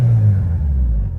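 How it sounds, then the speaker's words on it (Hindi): A tuned car with a free-flow exhaust gives a deep, steady, loud rumble up close, holding a low drone through most of the moment before it eases off slightly at the end. "ये हमारे एग्जॉस्ट की आवाज है।"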